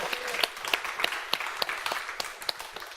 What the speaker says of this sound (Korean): 하나님 앞에 감사 박수 올려드리십시다.